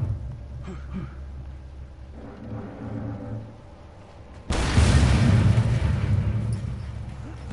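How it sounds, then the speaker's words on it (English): An explosion in the video game Mad Max erupts abruptly after a few seconds of rumbling engine and game noise, a loud, dense blast that roars on and slowly tapers. "Explosion required."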